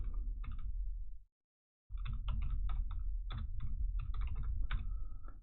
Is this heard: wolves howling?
no